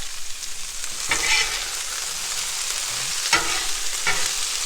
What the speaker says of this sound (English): Okay, let's get this stirred up again.